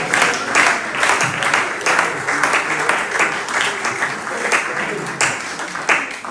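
A church congregation applauds during a sermon, loud, continuous clapping in uneven surges lasting about six seconds, with a murmur of voices beneath.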